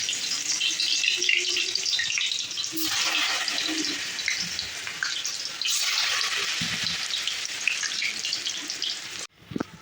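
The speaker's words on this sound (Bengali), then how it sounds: "তেলও দিয়ে দিয়েছি কড়াইতে আমি, তারপরে এক এক করে বড়াগুলো দিয়ে দিচ্ছি আর কি" Malabar spinach leaf fritters fry in hot oil in a wok, a close, steady crackling sizzle that swells as each piece goes in, then cuts off abruptly near the end.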